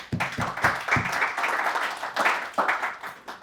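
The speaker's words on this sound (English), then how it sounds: "Round of applause." An audience claps at a business talk, a close, steady patter of many hands with a few sharper individual claps, lasting a few seconds without any speech.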